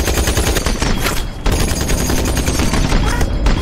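Dense, continuous gunfire from a film, rapid overlapping shots like automatic weapons, loud and close with one brief dip before the firing resumes, no speech.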